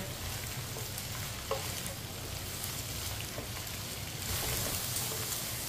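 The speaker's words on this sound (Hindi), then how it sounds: "आप इसे ऐसे ही चम्मच चलाते हैं 3-4 मिनट के लिए फ्राई कर लेते हैं" Okra sizzles and crackles steadily in hot oil while a spoon stirs it, with occasional soft scrapes against the pan, a close, even frying hiss throughout.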